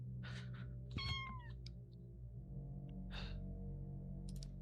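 A cat meows from a desk during a game stream, one clear rising-and-falling cry near the start, with faint chirps after it, over a steady low hum of background game audio.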